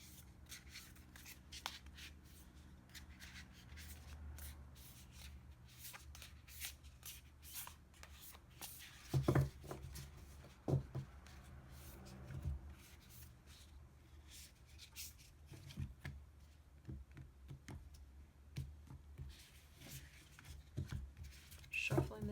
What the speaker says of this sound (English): Shuffling the deck a bit.